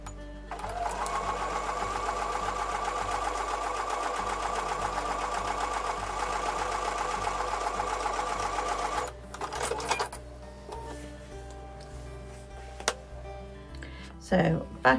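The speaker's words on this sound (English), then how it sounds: "So back to the sewing machine." A sewing machine stitching a quilt block runs in a fast, even rattle for about nine seconds, then stops, followed by quieter handling clicks and rustles.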